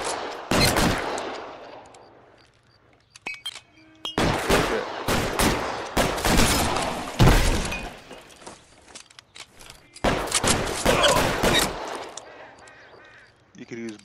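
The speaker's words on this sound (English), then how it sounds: "Guy up on the balcony. Ooh, he got a Tommy gun." Tommy gun fire in the game L.A. Noire, loud rapid bursts of automatic fire in several separate volleys, close, with quieter gaps between them.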